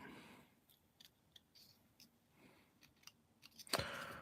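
Plastic parts from an Airfix Concorde model kit snipped with cutters, a series of faint, close clicks and snips in a quiet room, ending with a louder sharp burst.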